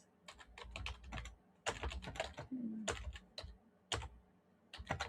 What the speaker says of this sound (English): I started writing Jim swept the papers that had his sketches on